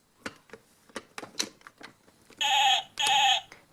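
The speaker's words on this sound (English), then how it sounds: "A sheep goes bah," Two long, sustained, nasal bleats in quick succession, like a toy farm sheep's sound effect, come after a run of small tapping and clattering noises from toys being handled during play.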